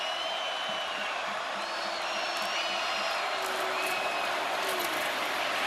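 A distant stadium crowd roars steadily at a Florida State versus Alabama college football game, a broad, fairly faint wash of cheering with scattered whoops and no break.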